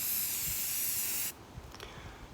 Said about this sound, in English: That's why they use white spray paint, it's so easy.